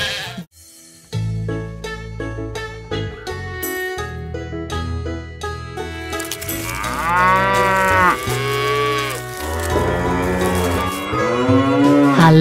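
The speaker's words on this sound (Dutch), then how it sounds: "Wat zegt de koe? Boe. zegt de koe." A cow moos several times, long and drawn out, alongside bright children's music, loud and close, with no spoken voices.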